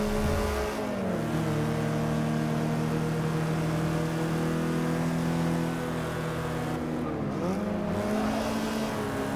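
A Porsche engine in the Forza 6 racing game drones at a steady high pitch, drops sharply as it shifts down, then climbs again, with a second dip near the end.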